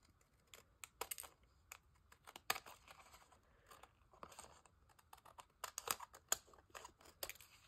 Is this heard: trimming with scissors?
yes